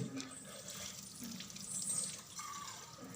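Tap water runs steadily into a sink while a water bottle is rinsed, a continuous soft splashing and trickling that swells and eases, fairly quiet and close with no talking.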